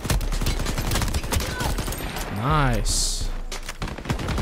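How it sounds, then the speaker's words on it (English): Shotgun blasts and rapid gunfire in the online shooter Shatterline during a team deathmatch match, loud bursts crowding together alongside game effects while a player speaks briefly. "we love shotguns in team deathmatch modes"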